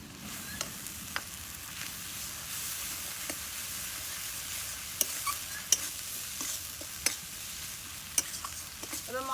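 Spice masala with turmeric, salt and ginger paste being fried and stirred in a pan, a steady close sizzle with sharp scraping clicks of the spatula scattered throughout.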